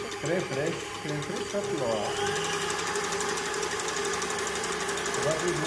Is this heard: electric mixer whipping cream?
yes